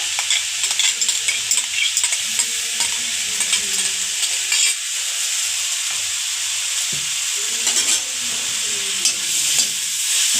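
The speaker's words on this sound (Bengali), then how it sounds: "এই যে আমরা এখানে ভালোভাবে নাড়িয়ে নিচ্ছে" Ginger-garlic paste frying with onions in a pan, a loud continuous sizzle and hiss with repeated stirring scrapes through most of the stretch.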